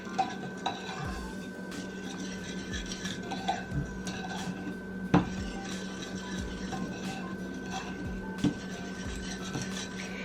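Salt and pepper being mixed in a bowl for a keto chicken thigh pot pie, soft rubbing and scraping with a few light clinks of utensil against the bowl, close and quiet.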